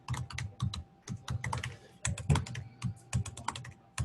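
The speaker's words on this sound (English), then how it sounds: "Typing too fast." Rapid typing on a computer keyboard, quiet close key clicks in quick irregular bursts with short pauses between runs.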